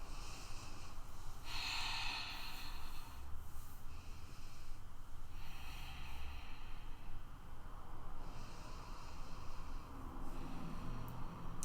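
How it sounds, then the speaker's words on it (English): Slow, deep breathing during a yoga session, with faint, soft inhales and exhales repeating in long rounds against a quiet background. "We'll find about 3 more rounds of breath here."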